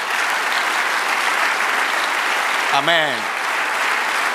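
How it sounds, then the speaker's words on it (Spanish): A church congregation applauds steadily and loudly throughout, with a single voice calling out briefly near the end over the clapping. "Denle un aplauso al Señor."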